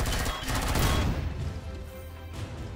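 A Zirax marksman rifle fires in Empyrion Galactic Survival, Reforged Eden, producing a loud, close burst of shot and impact noise that fades into a quieter rumbling tail.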